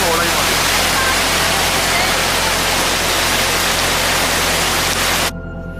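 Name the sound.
waterfall in Munnar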